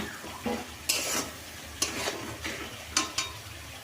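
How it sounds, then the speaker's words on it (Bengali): A spatula scrapes and stirs vegetables with cumin, coriander powder, chilli powder and turmeric in a pan over a soft sizzle for a vegetarian khichuri, in several short, fairly quiet strokes with pauses between. "হালকা করে জিরে এই ধনে গুঁড়ো দিয়ে সব কিছু ভালো করে পাক করে নিলাম।"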